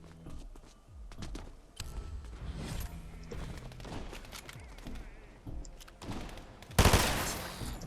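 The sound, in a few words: gunfire shooting cameras in Fortnite video game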